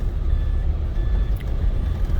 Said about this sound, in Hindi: ये जो आपको बीप की आवाज सुनाई पड़ रही है ना कॉन्टिन्यूसली, दैट इज बिकॉज मैंने ये वीडियो बनाने के लिए आगे थोड़ा सा लीन होने की वजह से अपना सीट बेल्ट निकाल दिया